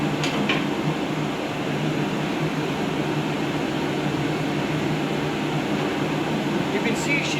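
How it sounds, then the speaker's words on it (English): A hydraulic press flattens a feather Damascus steel billet before forge welding, giving off a steady, dense mechanical hum that holds at an even level throughout. "this first press is to just flatten them out, so we'll go ahead and do that right here on the hydraulic press"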